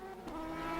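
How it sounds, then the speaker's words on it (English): A Le Mans prototype racing car in a virtual 24 Hours of Le Mans video game sweeps past, a brief buzzing engine note with a slight pitch shift, moderately faint. "As he goes past one of the satellite racing cars of Matt Strand"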